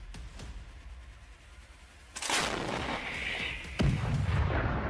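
Distant artillery fire strikes a Russian armored column on a road: a low rumbling background broken by a heavy blast and a second booming impact, with no speech.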